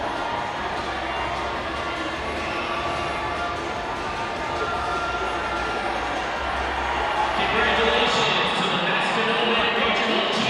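A packed gym crowd applauds and cheers at a boys basketball Division 2 state championship, Saint Mary's vs Masconomet. The dense, steady roar swells louder near the end, with voices mixed in.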